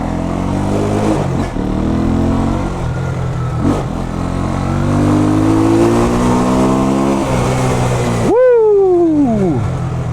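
A Jamco motorcycle fitted with an Eagle engine revs hard and rides. The loud, close engine note rises and falls through the gears, then a sharp high rev rings out near the end.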